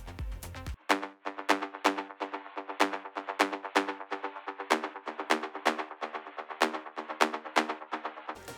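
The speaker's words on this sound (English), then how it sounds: "a buzzy serum layer which has a lot of delay on it" A bright, buzzy Serum synth plays rapid repeated plucked notes with heavy delay trailing behind each one, a steady rhythmic pattern with no voices.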